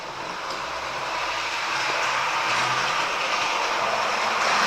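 A Hornby battery-powered toy play train runs steadily along its track, a continuous close whirring rumble with no talk.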